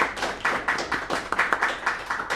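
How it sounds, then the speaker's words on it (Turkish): An indoor audience at a children's drama workshop claps together to open the season, giving a quick, steady run of close applause with no talk over it. "Bir alkışla açalım sezonumuzu."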